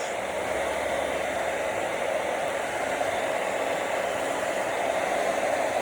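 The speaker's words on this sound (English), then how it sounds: "I'm just kind of using the blow dryer to heat up the brush so that I could create a nice little wave." A handheld blow dryer heats a round brush wrapped with hair during salon styling, a loud, steady airy roar that runs unbroken and alone throughout.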